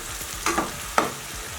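Oil sizzles steadily while potato chips are stirred as they pre-fry, with a couple of brief scraping strokes; no talking.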